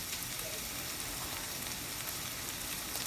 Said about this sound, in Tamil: ஒரு 5 நிமிஷம் வதக்குங்க. Soya meet வதங்கிட்டுது.